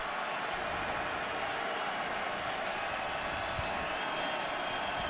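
Stadium crowd at a college football game, Notre Dame against Arizona State, a dense, constant roar of thousands of voices heard from afar, steady and loud throughout without any single voice standing out.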